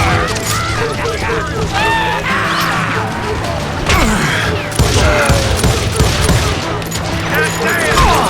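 Gunfire in the Xbox Series video game Call of Juarez Gunslinger: loud, dense volleys of shots and crashes in a chaotic firefight, with shouting voices and game effects mixed throughout.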